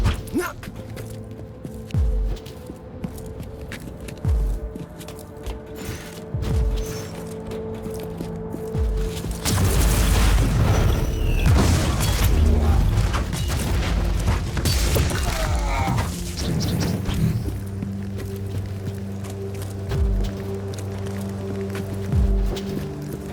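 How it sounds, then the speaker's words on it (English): Heavy bomber bombardment rumbles through the Warhammer 40,000: Inquisitor – Martyr video game, a loud sustained barrage of booming explosions in the middle stretch, framed by quieter battle ambience, mechanical clatter and game music before and after. "The Marauder bombers are launching a second wave of bombardments."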